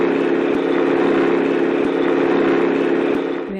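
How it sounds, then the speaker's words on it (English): A steady, loud vehicle engine drones with a low, constant hum and some mid-range clatter for a few seconds, fading slightly at the end, with no talk. "Noise of the engine of a vehicle is the example of sound of low pitch."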